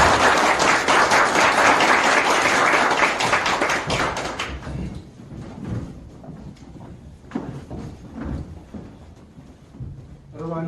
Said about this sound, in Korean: 여러분 큰 박수로 맞아주시면 감사하겠습니다